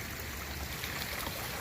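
Water flows into a newly built koi pond with a steady, soft rushing trickle that stays fairly faint and continuous throughout, with no voices.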